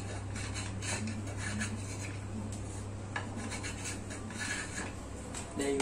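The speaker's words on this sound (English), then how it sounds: "Now I use a spoke shave to smoothen it." A spokeshave smooths the wooden blade of a handmade scout knife, producing repeated close scraping and rasping strokes over a steady low background hum.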